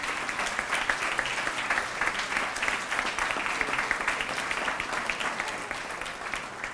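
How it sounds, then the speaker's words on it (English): An audience at an honor roll breakfast gives a sustained round of applause, a dense, steady clapping that fills the room and slowly fades slightly toward the end. "So let's have a round of applause for their families as well."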